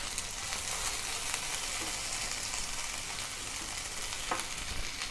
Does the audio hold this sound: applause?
no